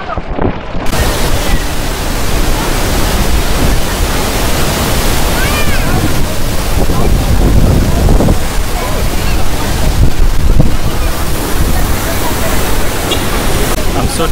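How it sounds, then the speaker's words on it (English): Strong, cold wind roars and buffets the microphone continuously near Naga Falls in North Sikkim, loud and close, with a rushing, surf-like wash of noise throughout. "It's so windy out here and it's so cold."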